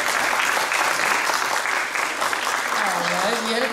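An audience at a film festival event in Jarosław, Poland breaks into applause, dense steady clapping close and loud throughout, with a voice speaking over it near the end.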